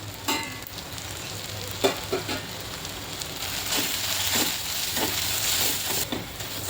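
Ground spices such as coriander powder and Kashmiri red chilli hit hot oil in a pan for a mixed vegetable dish, giving a steady frying sizzle with a few louder crackling bursts, with no talk.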